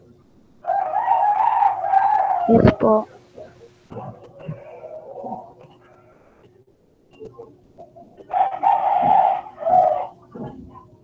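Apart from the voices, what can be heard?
many chickens clucking and roosters crowing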